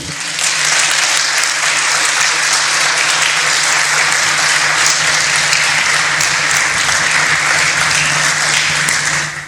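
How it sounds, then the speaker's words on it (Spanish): Congregation in a church giving loud, sustained applause to the Lord, dense clapping filling the space evenly from start to finish. "Denle un aplauso al Señor."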